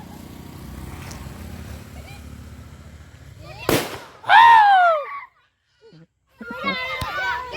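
A sharp firecracker bang cracks out amid children's chatter and shouting during Diwali celebrations, followed by excited voices.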